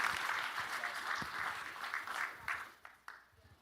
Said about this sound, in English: Come on, big round of applause, everybody.